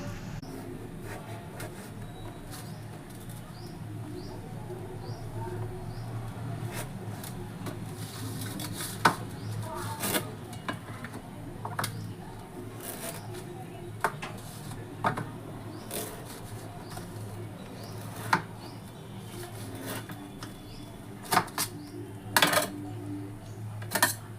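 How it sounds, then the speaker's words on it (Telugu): A knife slices through a watermelon with sparse, sharp clicks and crunchy taps against a surface, separated by quiet gaps of low background noise. "పుచ్చకాయ తీసుకొచ్చారండి దీన్ని కట్ చేసి పెడదాం"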